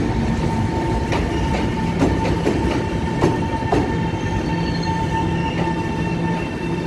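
EMU732+EMU731 commuter multiple-unit train on the Yilan line rolling into Ruifang station and stopping to wait, a loud steady rumble with rhythmic wheel clacks over rail joints and a faint high squeal of wheels, close by.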